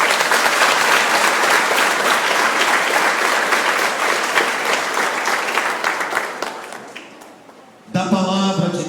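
A church congregation gives the priests a big round of applause, dense sustained clapping that fades out before a voice begins speaking.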